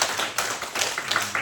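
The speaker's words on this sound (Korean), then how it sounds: "박수 한번 해주시겠습니다." A church congregation at a Sunday worship service applauds steadily, the dense, broadband clapping filling the room at fairly loud level throughout.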